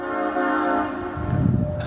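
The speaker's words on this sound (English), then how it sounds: "we got a train coming" A passing train sounds a loud, sustained horn, heard close, with the rumble of the rail cars building underneath toward the end.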